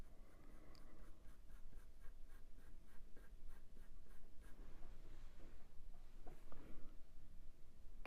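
A walnut brown colored pencil shades on drafting film in a soft, steady scratching rhythm of short repeated strokes, close and quiet, with a few louder taps near the end.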